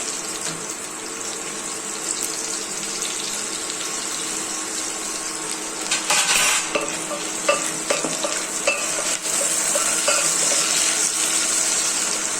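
Tomatoes and onion hit hot oil and keep frying with a continuous close sizzle, which swells louder partway through amid clinks and stirring scrapes.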